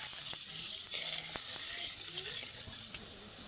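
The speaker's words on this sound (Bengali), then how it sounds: "ঝোলটা কিন্তু ফুটে এসছে" Gravy for a cabbage and egg curry boils in a pan, producing a continuous close bubbling sizzle with a few sharp ticks and clicks and no voices.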